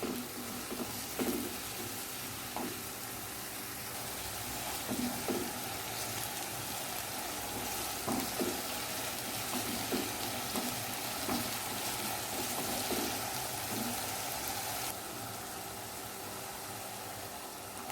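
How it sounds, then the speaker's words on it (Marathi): Onion frying on high heat in a pan, a continuous soft sizzle with occasional faint stirring scrapes, moderately quiet and steady with no talking. "मोठा गॅस करून साधारण 1 मिनिट कांदा परतून घेऊया।"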